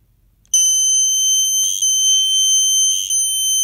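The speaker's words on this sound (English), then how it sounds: "The light tunnel turns on and produces a show, and the horn may sound a little weird." A Snap Circuits electronic horn in a loud multicolor sound project gives a piercing, steady high electronic tone like a smoke alarm, close and continuous, with two brief buzzy flutters partway through.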